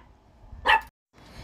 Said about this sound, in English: Sorry, the dog started barking.